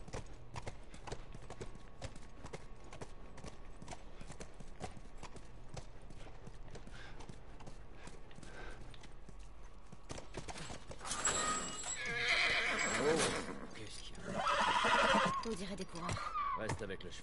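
Horse hoofbeats and neighing in The Last of Us on PS4, heard faintly at first under low ambience, then louder clopping and whinnying bursts near the end.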